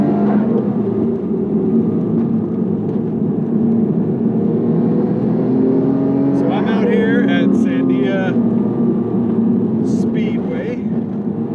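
A Nissan Skyline R32 GT-R engine drones steadily at close range while driven hard on a racetrack, with a brief rising whine partway through, continuous and fairly loud throughout.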